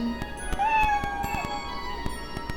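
A cat meows in the video game Odin Sphere: Leifthrasir, one drawn-out, rising then falling meow over a steady musical backdrop with soft rhythmic thumps.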